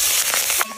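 Cumin, black cumin and green chilli sizzle in hot oil in a home kitchen pan, a dense close crackle and hiss with a few sharper pops, fading briefly near the end.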